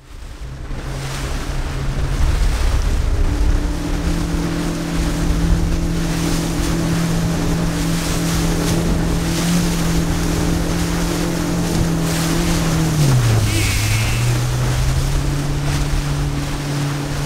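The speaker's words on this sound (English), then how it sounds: "on the way out, we were riding the waves and coming off of them, which was slowing everything down" Fishing boat riding out over ocean waves, its motor droning loud and steady with a shifting pitch under heavy wind buffeting and the rush of water against the hull.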